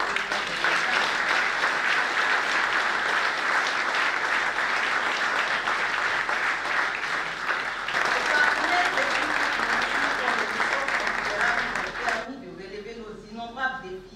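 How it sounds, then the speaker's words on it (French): Sustained applause from a crowd at an awards ceremony in Côte d'Ivoire, steady and loud for most of the clip, then breaking into scattered claps before fading near the end. "Je vous prie de leur adresser de vifs applaudissements pour le travail"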